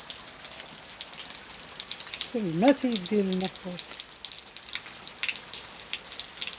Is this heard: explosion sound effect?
no